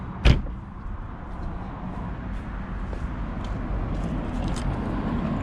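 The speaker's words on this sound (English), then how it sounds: "Go ahead and shut the door." Door of a 2017 Aston Martin V12 Vantage S coupe shutting with one sharp, close thud near the start, followed by quiet ambient rumble.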